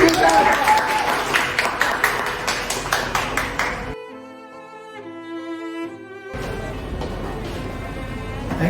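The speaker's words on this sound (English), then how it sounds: "Give him a clap." Audience applause greets a debate coach about to perform a Hamlet monologue, dense clapping that breaks off midway for a short stretch of sustained tones, then resumes at full strength.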